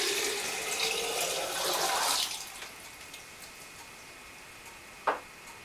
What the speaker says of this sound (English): pour my fermented water kefir through the strainer.